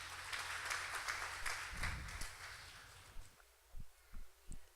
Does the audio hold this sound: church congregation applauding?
yes